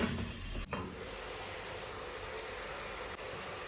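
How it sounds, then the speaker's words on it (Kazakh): Meat sizzles and fries in hot oil inside a pot set over a fire, a steady loud hiss filling the whole stretch with a brief break near the start. "Етімізді жақсылап қызарғанша қуырып аламыз."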